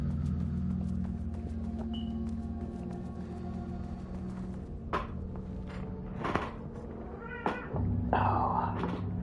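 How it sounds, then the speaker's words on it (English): A pet cat belonging to the owner's mother meows a few times indoors, short close calls scattered over a steady low hum, with a couple of soft knocks and no talk. "She's my mom's cat, but she spends a lot of time with me as well when she can."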